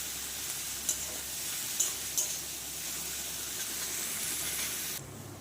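Ground spice paste with turmeric powder frying in a pan, a steady moderate sizzle close by with a few sharp clinks of stirring before it fades quieter.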